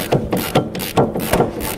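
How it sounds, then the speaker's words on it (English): Socket ratchet clicking as it loosens 15 mm caliper bolts on an MG TF brake, about five close, sharp ratcheting strokes in a regular back-and-forth rhythm. "if you just get a socket on, give it a, it might be a bit tight to get started"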